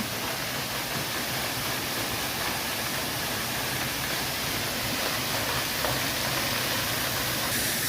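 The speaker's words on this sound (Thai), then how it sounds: "เป็นน้ำตกเทียมที่ทางวัดเชิงเขาสร้างนะคะ" Artificial waterfall built at a hillside temple gives a steady, even rushing hiss of falling water, continuous and fairly close with no voices.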